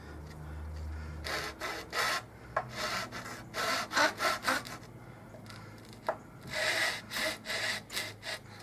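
Hand sanding along the edges of a wooden trailer side panel: close, scratchy rasping strokes come in uneven bursts with short pauses between them, and no one speaks.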